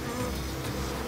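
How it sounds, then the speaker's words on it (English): A dense swarm of bees buzzes steadily and loudly, a continuous close droning hum with no pauses or voices. "Bees that cause allergic reactions."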